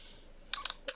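A few quick keystrokes on a computer keyboard, three or four close, crisp clicks in a short burst after a moment of quiet.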